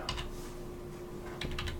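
Quick bursts of keystrokes on a computer keyboard, a few clicks at the start, a pause, then another short flurry, close and crisp over a faint steady hum.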